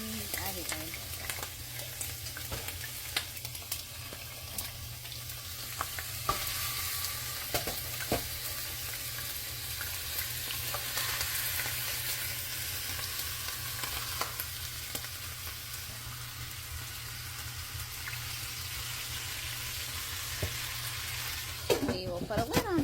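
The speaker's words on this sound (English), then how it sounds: "now we're going to throw these in the oil" Pork ribs frying in oil in a pan, a steady close sizzle with crackles and pops that lasts throughout, under occasional faint speech.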